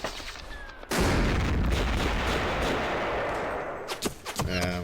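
A mortar barrage lands on motorized infantry in the wargame Panzer Campaigns Kiev '43 as a loud sudden boom, followed by several seconds of rumbling, crackling explosions that fade into scattered sharp reports.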